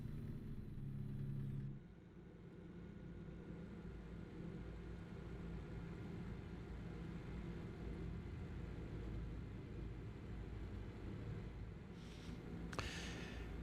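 A truck rolls steadily toward a highway in American Truck Simulator, a continuous low engine and road rumble that holds at an even level throughout, with a brief sharper clatter near the end.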